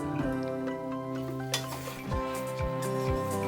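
Ghevda beans are stirred in a pan with a close, gritty scraping and light clinks of the utensil on metal, while a faint sizzle and a low tonal hum run underneath.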